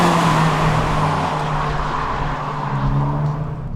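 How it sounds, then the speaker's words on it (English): Toyota Yaris GRMN engine from inside the cabin, a steady loud drone with a sustained low tone and broad road and wind roar, gradually easing slightly in pitch, no voices. "This car sounds really nice, very, very pleasant."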